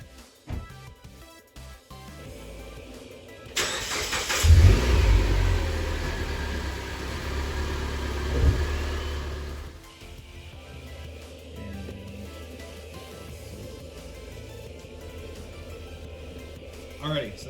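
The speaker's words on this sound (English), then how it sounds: "let's pull the car back in," A 2007-2017 Mitsubishi Lancer (CJ) rolls back into a garage, its engine rumbling and briefly revving up loud and close for several seconds before settling into a quieter idle.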